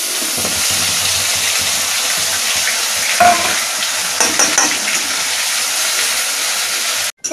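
Spice paste hits hot oil with cardamom in a wok while cooking prawn malai curry, giving a loud continuous sizzle with a few stirring scrapes and utensil clinks, cut off abruptly at the end.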